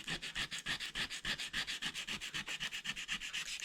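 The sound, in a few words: sanding a knife with worn-out sandpaper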